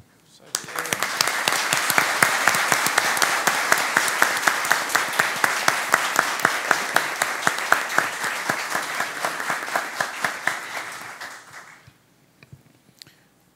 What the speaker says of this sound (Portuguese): faltou uma salva de palmas calorosa ao nosso amigo Flávio